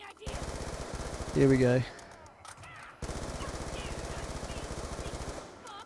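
Rapid automatic fire from a Galil rifle in Black Ops 2 Zombies, sustained bursts running almost the whole time, loud and close, with a short gap midway and someone speaking briefly over it.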